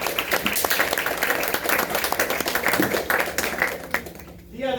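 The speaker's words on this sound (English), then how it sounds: "Give him a round of applause" A crowd claps and applauds at a test night event, with dense steady clapping that fades toward the end under some talk.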